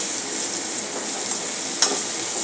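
Vegetables frying and being stirred in a pan for flower Manchurian give a steady close sizzle throughout, with one brief sharper scrape near the end.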